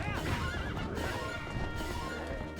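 A horse in Zelda: Twilight Princess HD neighs loudly and whinnies close up while riding across Hyrule Field, with hoof clip-clops underneath.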